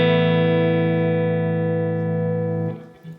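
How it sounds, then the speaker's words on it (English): A sustained guitar chord rings through a Laney amplifier with spring reverb, holding steady and loud before being damped and cut off near the end, followed by a faint handling noise. "the spring reverb in the Laney amplification systems that I use, I really like"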